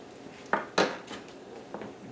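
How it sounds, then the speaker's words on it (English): A knife cuts the ends off small, tender young squash on a board, giving a few sharp separate knocks and taps close by, with two louder chops near the start and a softer one near the end. "I'll just cut the ends off."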